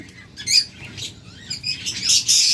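Pet lovebirds and budgerigars chirp and tweet in short, repeated bursts, clustering into a busier chatter toward the end over a quiet background, with no speech.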